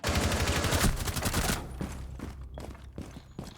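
Heavy gunfire and explosions in a Rainbow Six Siege esports match, a loud dense burst of rapid shots that cuts off sharply, followed by a few scattered fainter shots and thuds.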